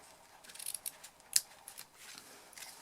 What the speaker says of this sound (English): And now I'm just going to trim the tails.